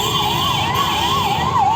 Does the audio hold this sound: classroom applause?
no